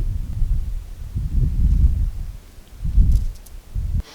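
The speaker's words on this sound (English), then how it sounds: "It's windy." Gusty wind buffeting the microphone outdoors in Arches National Park, low rumbling bursts rising and falling in several waves, with no voices.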